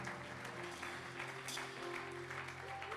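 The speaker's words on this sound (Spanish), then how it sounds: "Denle un aplauso al Señor en esta hora." Church congregation applauding during a sermon, a steady, moderately distant patter of many hands clapping together that carries on without pause under a low room hum.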